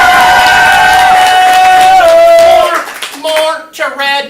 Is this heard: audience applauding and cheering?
yes